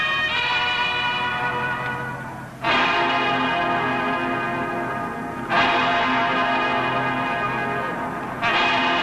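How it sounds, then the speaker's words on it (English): Ohio State campus chimes ring at the 1958 Rose Bowl, three long resonant bell strikes about three seconds apart, each swelling and slowly decaying, loud and alone. "the sound of the campus chimes"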